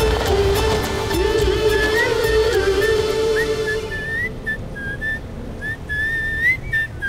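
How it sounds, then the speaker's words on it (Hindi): A man whistles a cheerful, wandering tune, close and clear, over a low steady backdrop that thins out partway through. "शादी के मंडप में धोखा खाया फिर भी खुशी में सीटी बचा रहे हो"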